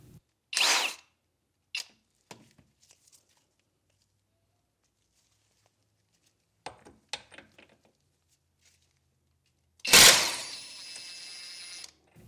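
Brief mechanical bursts from a Masterforce 1/2-inch high-torque cordless impact wrench, a few short rattling hits scattered across quiet gaps, then a louder sustained burst near the end.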